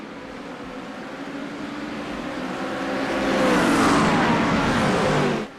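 GT3 race cars at a restart at Watkins Glen in a sim racing game give a dense, steady engine roar that builds louder partway through and then holds as the pack accelerates; nobody speaks.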